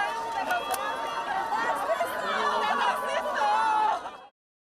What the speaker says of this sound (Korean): 차가 평산마을로 들어서자 환호가 터져 나옵니다